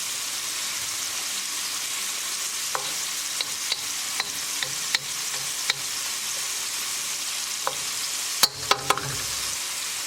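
Cooked mushrooms in a lidded pan over a gas flame being stirred: a quiet, constant sizzle broken by scattered spoon scrapes and taps, with a quick burst of clatter near the end.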